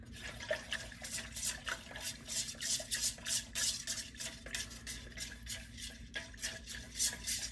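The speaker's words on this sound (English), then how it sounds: "So now you're gonna take your skewer, you're gonna stir." A skewer stirs candle wax mixture in a container, making a steady, soft scraping swish that keeps going for several seconds with faint liquid dabbing.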